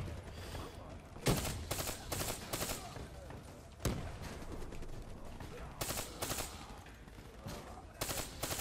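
Automatic weapon fire in Black Ops 3, with repeated loud bursts of rapid shots breaking through a dense, busy game soundscape.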